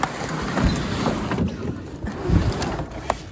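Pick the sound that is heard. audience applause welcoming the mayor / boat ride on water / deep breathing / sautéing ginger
boat ride on water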